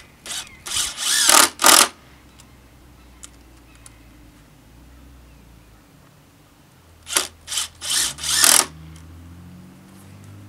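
A power drill drives screws into a wooden shelf frame for seedling trays, heard as two close clusters of short, loud whirring bursts separated by several seconds of quiet.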